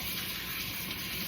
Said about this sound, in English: gotta wash my hands